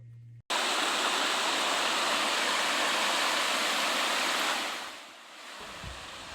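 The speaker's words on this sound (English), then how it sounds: "This is the spillway that was created to relieve pressure off the ring levee." Floodwater pours through a levee spillway built to relieve pressure on a ring levee during a flood, a loud, steady rushing roar that fades toward the end.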